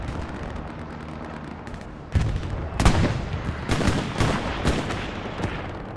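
World War II artillery fire at Utah Beach in a competitive video game match: several heavy booming impacts land one after another over a rumbling battlefield background, with no voices.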